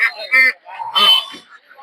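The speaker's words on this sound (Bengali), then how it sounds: "দেখতে পাচ্ছেন এদিকে হচ্ছে বেলজিয়াম হাঁস," At a rural poultry market in Puthia, Belgian ducks let out loud, honking quacks in two or three bursts, close by and dominating the scene.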